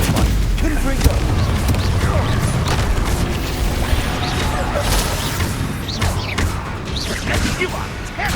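Booming spell blasts and crashes from Hogwarts Legacy combat, with Confringo fire explosions and whooshing casts layered densely and loudly throughout under game voices and music.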